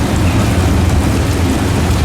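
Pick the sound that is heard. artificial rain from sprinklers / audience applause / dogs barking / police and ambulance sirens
artificial rain from sprinklers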